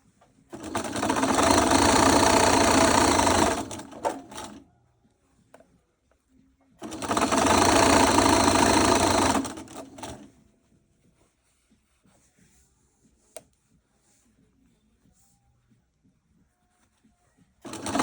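A home sewing machine running a straight stitch over gathered fabric while making a McCall's M8563 garment: two loud, close bursts of rapid whirring stitching, each about four seconds long, separated by a quiet pause with faint handling.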